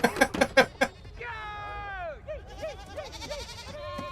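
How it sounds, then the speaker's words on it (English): Goats bleat from a scene in the series Loki. Several short, sharp noisy bursts open the clip, then a run of long, wavering, tonal bleats overlaps and follows, fairly loud against faint crowd murmur. "Attack of the goats!"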